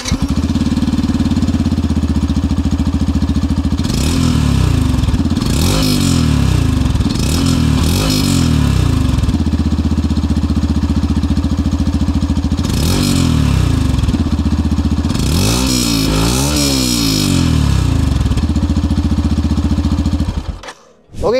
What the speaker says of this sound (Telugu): ఇప్పుడు ఈ బైక్ ఎగ్జాస్ట్ నోట్ ఎలా ఉందో ఒకసారి చూద్దాం మనం.